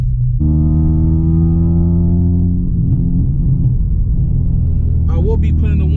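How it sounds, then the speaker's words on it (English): A car engine hums and rumbles steadily up close, a low droning tone throughout, with a person speaking briefly near the end. "Is your car too loud?"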